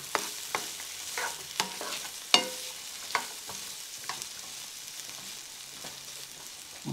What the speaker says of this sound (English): Let me sort of stir them up a little bit here.